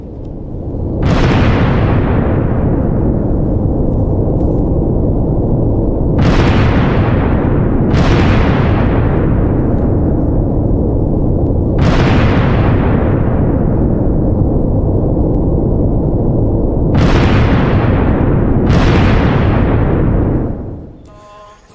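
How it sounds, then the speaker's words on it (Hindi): Explosions from Israeli strikes inside Iran boom six times at irregular intervals over a constant loud roar, each blast a sharp, heavy crack fading into a long rumbling decay, with no clear voices. "इजराइल भी ईरान पर लगातार हमला कर रहा है और ईरान के अंदर धमाके करके ईरानियों को दहला रहा है"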